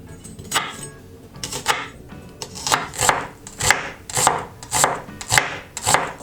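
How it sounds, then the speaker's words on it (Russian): A knife chops an onion steadily on a cutting board, regular crisp taps about twice a second, close up with no voices. "Мелко режу 1 головку луковицы."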